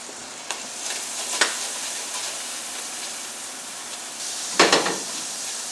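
Butter melting for a roux in a pan for shepherd's pie, a soft steady sizzle broken by brisk whisk strokes against the metal, one louder scraping burst near the end, no talking.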